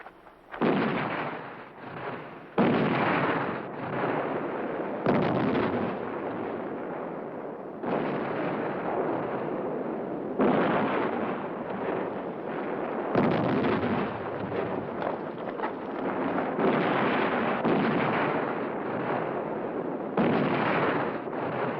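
Artillery fire in a war film set at the Battle of El Alamein rolls on as a continuous heavy barrage, with booms of equal loudness repeating every few seconds over a constant rumble and no dialogue.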